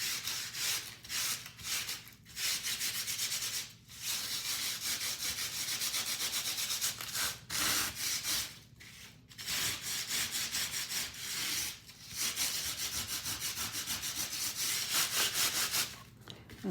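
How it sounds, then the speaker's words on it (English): A sanding block rubs crusty salt off a sheet of paper in long, steady scraping strokes, close and fairly quiet, broken by short pauses between passes. "sand it off"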